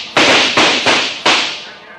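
Four sharp gunshot bursts from a radio drama shootout in a Western, as cowboys charge a doorway firing; loud, close reports spaced irregularly, each decaying quickly, with no talking.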